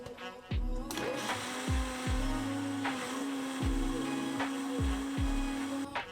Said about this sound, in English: Now it's time to add our salt and our cilantro, and then we're gonna blend it again.